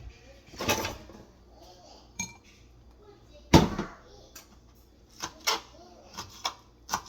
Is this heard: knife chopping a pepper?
yes